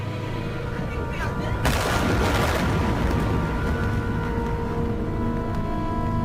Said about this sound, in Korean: 검붉은 불기둥과 함께 두 번째 폭발이 일어났다